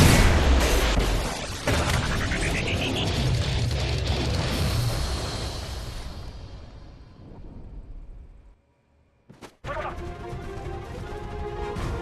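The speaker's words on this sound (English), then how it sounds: "Friendly Predator missile inbound." A Predator missile strike in Modern Warfare 3 sets off a loud, dense crash and rumbling blast that fades over several seconds, drops into a short silence, then returns with another burst of noise.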